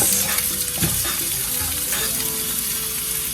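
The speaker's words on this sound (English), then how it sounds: "I'm gonna put it on 4 because we want this to go ahead and get sizzling" Sausage sizzles and crackles steadily in a hot pan on medium heat, with a few soft scraping stirs over the constant frying hiss.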